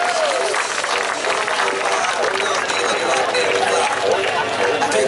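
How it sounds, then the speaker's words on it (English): An outdoor audience at a steam fair sheep show claps for a Suffolk sheep, a dense, sustained wash of applause mixed with crowd noise and music playing underneath. "big round of applause for Sammy,"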